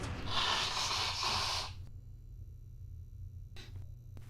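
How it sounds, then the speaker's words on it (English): A person blows their nose in one loud, sustained rasping burst lasting over a second, then a short, fainter snort follows after a pause. "I need to blow my nose"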